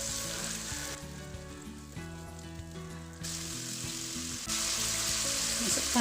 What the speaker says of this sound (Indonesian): Kemudian goreng bumbu sampai harum dan matang.